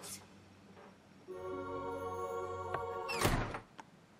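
A cartoon door makes a dull thunk and slide over a sustained musical tone, with a sharp clatter near the end, in an animated pony episode.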